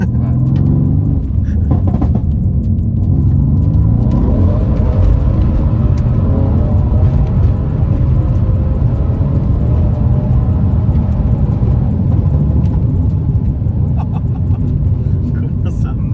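A Mercedes C63s AMG rumbles deeply while driving, a loud, constant low engine drone inside the cabin, with people talking over it.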